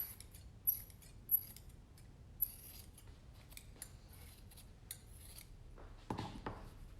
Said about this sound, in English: And again, lots and lots of trimming.